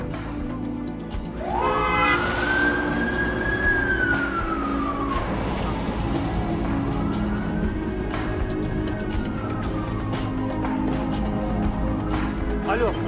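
An ambulance siren wails with rising and falling sweeps, loud and nearby over a steady rumble of traffic, while people speak in the background.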